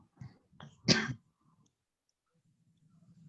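A single sharp cough follows a couple of small throat sounds, close and fairly quiet, then near silence with faint low murmuring.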